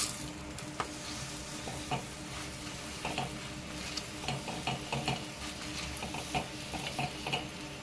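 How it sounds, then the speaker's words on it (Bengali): A carrot and potato paratha fries in a pan with a steady sizzle, joined by repeated light scraping and tapping of a spatula against the pan, close and quiet with no talk. "আবার একইভাবে আরেকটি ভেজে নিচ্ছি।"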